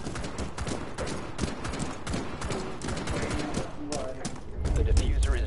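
Rapid bursts of pistol gunfire in Rainbow Six Siege crackle under a player's steady talking, with a heavier low thump near the end.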